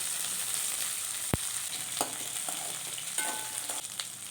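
Small onions hit hot oil in a pan and sizzle steadily and close. A sharp clack comes early, followed by a few light scrapes and stirs, with no voices.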